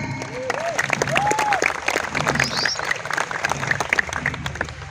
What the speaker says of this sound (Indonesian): tepuk tangan buat Hamdi bin Soleh Hamid.